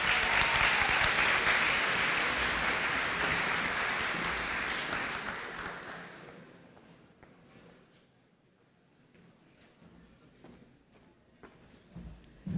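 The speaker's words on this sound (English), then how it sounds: "Let's give another round of applause for all of our wonderful employees" A convocation audience claps in a dense, loud burst of applause that holds for several seconds, then fades to a quiet room before a few scattered claps return near the end.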